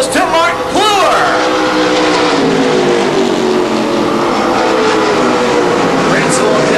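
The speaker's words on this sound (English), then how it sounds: "Breitzel trying to rev it up, seeing if he can catch up to Plur." Stock cars in the Mid-American Stock Car Series race at the Milwaukee Mile, loud revving engines roaring and sweeping past close by, with a dense continuous drone of several cars at once.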